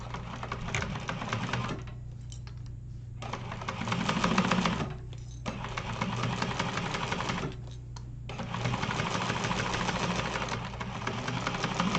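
Sewing machine stitching a leather wallet runs in fast, even bursts of mechanical chatter, stopping briefly several times between runs, close and clear with no talking.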